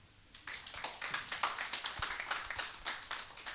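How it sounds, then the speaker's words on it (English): Thin, scattered applause from a small audience at a community development project launch, a few hands clapping unevenly and softly for several seconds before dying down. "That clap was for him, and it was so weak."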